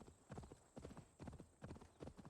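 Horse hooves clip-clop in Assassin's Creed Valhalla, a steady rhythmic gallop of grouped hoofbeats repeating several times, faint and even in pace.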